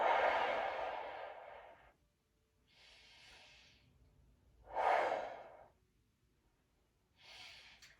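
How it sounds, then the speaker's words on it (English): Deep, slow breaths during a stretching exercise, with a long loud exhale, then softer breaths and another strong exhale, close and breathy with no speech. "I'm breathing through it."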